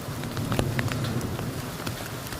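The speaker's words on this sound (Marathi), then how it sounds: "अक्षरशः गार पडते" Hail and unseasonal rain falling on an open farm field in Sangvi, a steady hiss of rain with sharp, irregular ticks and pops of hailstones striking nearby.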